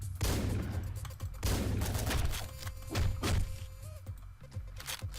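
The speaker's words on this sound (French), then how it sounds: "on prend le fusil à pompe 2 secondes juste pour faire" Repeated shotgun blasts from the pixel-art action game Hotline Miami, loud booming shots a second or so apart with close, heavy impacts and a steady game music bed underneath.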